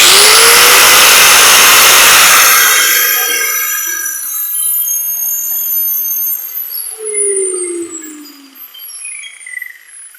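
An angle grinder with its switch locked on spins down from a loud high whine over the first few seconds, the pitch falling away into quiet with faint chirps and distant noise afterward.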